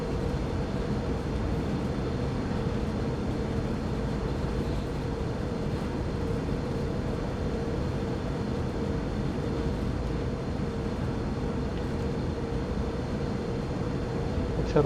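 A freight train in the Train Sim World 3 game, an intermodal run on Cajon Pass between San Bernardino and Hesperia, gives a steady droning locomotive rumble with a constant tonal hum, unbroken throughout and with no talking.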